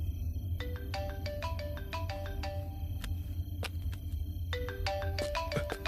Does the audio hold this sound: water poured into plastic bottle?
no